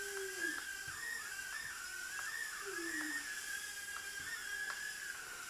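An Eachine E010 mini quadcopter drone flies indoors and bumps into things: a steady high electric motor whine that wavers with throttle changes, broken by small taps and clicks as it knocks against obstacles.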